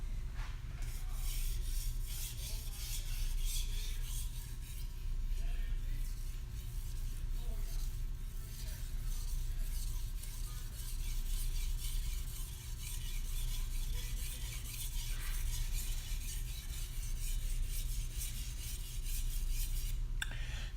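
An Anryu gyuto knife is drawn across a Suehiro Debado 1000-grit whetstone, making a steady, soft scraping rub with gentle periodic swells. The sound is close and continuous under a low background hum.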